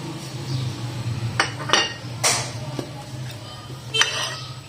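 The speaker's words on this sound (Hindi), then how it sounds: "सब चीज़ों को मिक्स कर लेंगे।" A spoon mixes chana chaat with potatoes, chaat masala and salt in a bowl, giving a few sharp metallic clinks and scrapes spaced over a few seconds above a low steady background hum.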